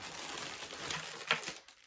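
Brief rustling crinkle of a plastic bag, soft and close, with a sharper crackle near the end.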